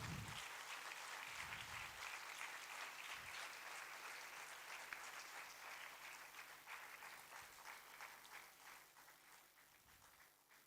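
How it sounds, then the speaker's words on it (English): An audience at a research excellence award ceremony applauds in a steady, sustained round of clapping that fades slightly toward the end. "Let's celebrate this with a big round of applause."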